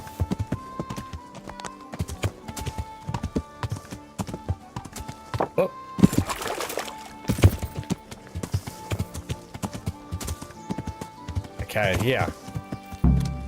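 Steady clip-clop of horse hooves trotting in Kingdom Come: Deliverance, continuous and fairly close, with a few brief spoken words over it.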